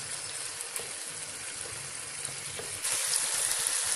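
Softened tomatoes sizzle steadily while being sautéed with spices for an egg and chickpea curry, with occasional stirring scrapes; the frying grows louder and brighter near the end, with no talking.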